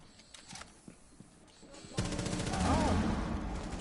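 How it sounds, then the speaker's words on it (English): Rapid automatic gunfire in the video game Rainbow Six Siege, a dense burst of shots that gets louder and continues to the end, following quieter scattered game sounds. "Oh my gosh, my recoil control with Ash is trash"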